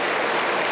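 A church congregation applauds for the Lord Jesus during a Spanish-language service, a brief, loud, dense burst of clapping filling the room with no voices over it.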